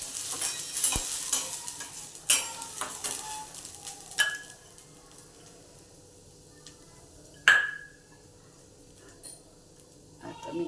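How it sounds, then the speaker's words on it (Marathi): Masala stirred and fried in a pan, a soft sizzle under intermittent clinks and scrapes of a spoon against metal, close by with sharper knocks now and then. "हे चांगला मसाला परतून घ्यायचा"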